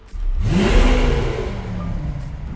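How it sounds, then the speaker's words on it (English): A Lamborghini Aventador LP700-4's V12 engine cranks and roars to life, revving loudly up and then settling into a deep, rumbling idle nearby. "there the car turns on. So this V12, it's really loud."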